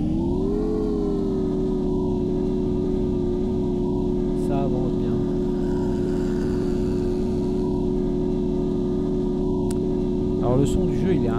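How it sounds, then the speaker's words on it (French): A motorcycle engine in the video game Empyrion drones in a constant, buzzing whine that barely changes pitch, loud and unbroken from start to finish. "Le son du jeu, il est infernal, surtout pour la moto là."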